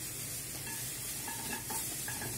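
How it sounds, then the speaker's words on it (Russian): Sliced button mushrooms sizzle in a frying pan, a soft, steady crackle and hiss heard faint and close, with no talking. "Вот, поставлю жариться грибы."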